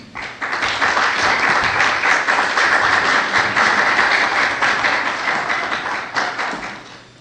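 Sustained applause from an audience at a Haitian literary honours ceremony as the poet and novelist is called forward, dense steady clapping filling the room for several seconds and tapering slightly near the end.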